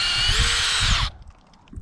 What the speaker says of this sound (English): Of course, I just drilled the hole.